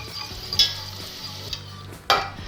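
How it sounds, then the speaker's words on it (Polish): A spoon stirs a sizzling cheese sauce in a pan as milk is gradually poured in, making a steady hiss with close, sharp scrapes and clinks against the metal. "i wlewamy 300 ml mleka. Robiąc to oczywiście stopniowo i cały czas mieszamy."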